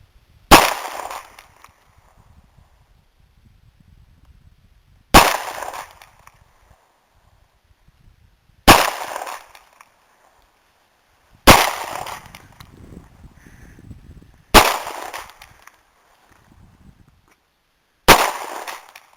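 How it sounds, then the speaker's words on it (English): Six sharp pistol shots from a Beretta 92FS Vertec firing 115 grain full metal jacket rounds at about ten yards, spaced several seconds apart, each a loud crack with a short decaying tail and quiet gaps between. "let's go ahead and put some downrange. And we are also shooting a 115 grain full metal jacket at right around 10 yards or less"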